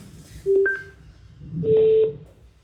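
Two bursts of telephone keypad tones as a number is dialed to reach a caller on a French radio call-in show, a short beep followed by a longer one, clear and close with no talk over them.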